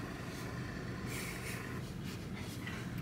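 Car-carrying train in the Alps, heard from inside a car loaded onto it, giving a steady low rumble and rattle of the rail wagons with faint intermittent clanks and no talk.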